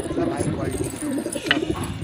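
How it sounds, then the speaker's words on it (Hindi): Soft Devbandi pigeon cooing close by, low murmuring calls repeating over a busy background with some voice-like sound mixed in. "तो देखिए देवबंदी कबूतर है भाई,"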